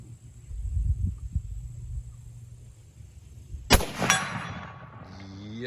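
.375 H&H Magnum rifle fired once while zeroing, a single loud sharp crack partway through that rings briefly afterward, following a stretch of low rumbling background.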